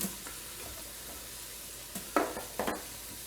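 Onions added to a pan after browning beef for an Italian beef stew, a soft sizzle with a few brief stirring scrapes and clatters near the end.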